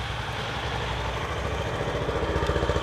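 Honda CB350 motorcycle idling with its exhaust note close by, a soft, steady low thump that grows into a more distinct pulsing rhythm toward the end, heard alone.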